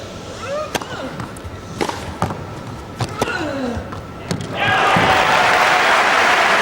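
Tennis crowd at the 2005 Paris final between Berdych and Ljubičić, sharp racket strikes and court thuds under a murmuring arena, then a sudden sustained wave of loud applause sweeping in near the end.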